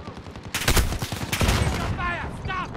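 Rapid gunfire bursts in Call of Duty: Modern Warfare multiplayer, dense overlapping shots and explosions loud and close, with shouted voices mixed in.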